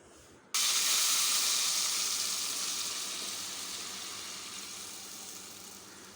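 Masala paste for Balochi fish salan dropped into hot oil, bursting into a loud, bright sizzle that starts abruptly and then slowly fades while hissing steadily.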